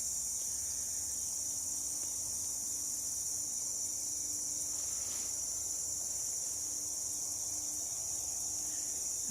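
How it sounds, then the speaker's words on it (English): Crickets and other insects chirr in a constant high, even drone outdoors in the morning, faint and steady throughout, with no voices. "You can hear the insects, which I almost always can whenever I'm filming outside here."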